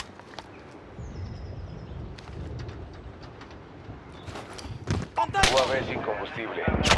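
Gunfire in a Call of Duty: Modern Warfare battle, with AK-47 assault rifle shots among distant blasts and battlefield noise; scattered shots build to loud, close bursts near the end, with voices heard briefly.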